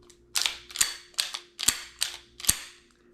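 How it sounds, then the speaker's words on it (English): A pistol's slide is racked against its frame in six sharp metallic clack-and-slide cycles, close and crisp, evenly spaced in a quick rhythm with quiet between strokes. "When we look at the fit and finish and the slide and frame fit, if you just hear that, it just sounds so much better"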